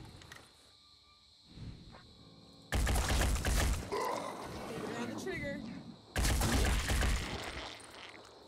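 Shotgun blasts in the Phoenix Point video game erupt in two loud, dense bursts of gunfire and roaring creature cries, separated by quieter game ambience with someone speaking French beforehand.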